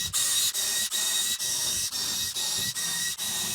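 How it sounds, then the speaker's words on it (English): A drill boring a series of quarter-inch holes through a wooden mounting board for a breaker panel in a shed, loud steady whine broken by about seven brief dips as each hole finishes. "Now I'm just gonna straight up blow some 1/4 inch holes through this thing to make a mounting grid."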